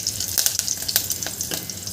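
Hot oil sizzles and crackles steadily as curry leaves fry, with sharp irregular pops scattered through the frying hiss.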